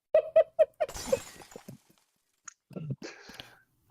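Glass shattering sound effect: a sharp crash with a bright spray of breaking fragments, preceded by a few quick tonal knocks and followed by scattered clinks and voices talking.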